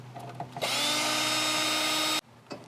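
A power drill drives a screw into a light fitting on a 36-year-old motorhome, whirring at high pitch in a single close burst of about one and a half seconds, with small handling clatters around it.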